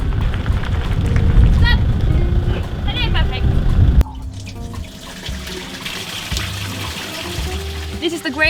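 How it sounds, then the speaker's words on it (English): Grey water drains from a camper van's tank in Sweden, a loud rushing, splashing flow under nearby talking that briefly cuts off and then continues as a quieter trickle. "This is the grey water that we're emptying right now."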